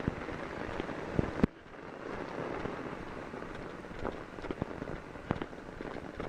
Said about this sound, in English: we are getting torrential rain here in Westbury